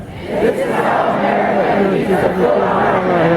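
At a Juneteenth Black Lives Matter march, a protest crowd chants a slogan in loud unison, voices swelling together in a steady, continuous roar nearby.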